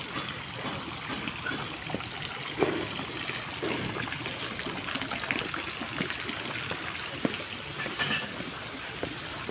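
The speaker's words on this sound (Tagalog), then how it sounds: "Sarap po talagang pakinggan ng lagaslas ng tubig." Water flowing and murmuring at a pavilion, a continuous steady trickling wash with small splashes, moderately close and unbroken for the whole stretch.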